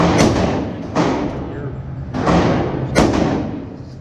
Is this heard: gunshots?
yes